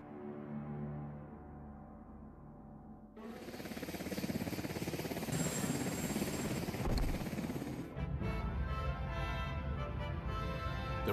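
Marine One, the presidential helicopter, lifting off: a loud, steady rotor and turbine roar swells suddenly and holds strong and near, with a thin whine riding on top, no talk.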